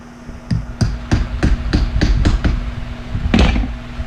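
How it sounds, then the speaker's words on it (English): A small tack hammer bangs down nails in a beekeeping workshop, eight or so sharp, loud, close strikes in a fairly even rhythm over a steady low hum, with no talking. "Small tack hammer here."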